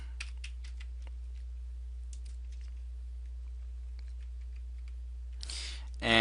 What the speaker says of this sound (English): I'm going to type in all the cases first